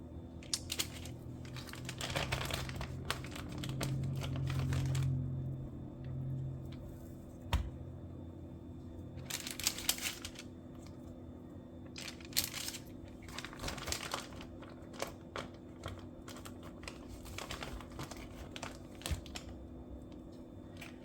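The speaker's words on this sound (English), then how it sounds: "I'm going to line my bacon on this parchment paper" Parchment paper crinkles and rustles in bursts as strips of raw bacon are laid out on a baking sheet, irregular crackling with soft taps and pauses, close and fairly quiet, no talking.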